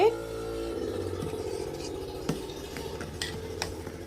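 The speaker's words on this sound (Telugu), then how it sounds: "ఇట్లా పాల పొంగులాగా పైకి వచ్చేసినప్పుడు మనం ఇట్లా వేరే ఏదన్నా గంట తీసుకొని ఇట్లా తిప్పుకుంటూ ఉంటే ఆ పొంగు అయితే ఆగిపోద్దండి" A ladle stirs a pot of boiling cream, made from malai skimmed off curd, while it cooks down into ghee. Light scraping clinks and bubbling carry on steadily under a person talking.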